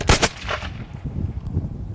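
Two loud black powder gun blasts in quick succession, followed by a third muffled shot and a rumbling echo fading out.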